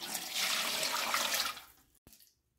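Three quarts of water pour steadily and fairly loudly into a canning pot for over a second, then trail off, followed by a single faint knock.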